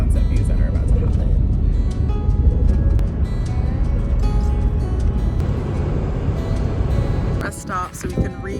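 A car drives along a desert road at sunset during an overlanding trip in California, with a steady low engine and road rumble throughout that dips near the end. Speech runs over it.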